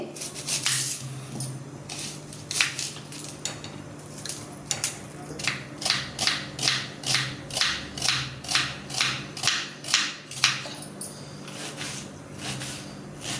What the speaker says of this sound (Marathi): कारलं उकडते तोपर्यंत बारीक कांदा कापून घेते